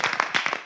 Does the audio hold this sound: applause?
yes